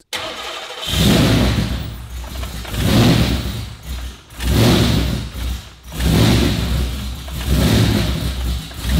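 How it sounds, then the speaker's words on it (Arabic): A Hellcat V8 swapped into a Toyota Supra fires up for the first time, cranking and catching with a loud roar, then revving hard in several surging bursts that drop back toward idle between them. "ودلوقتي هنشغل المحرك لاول مره وده بيكون محرك v 8 الهيل كات"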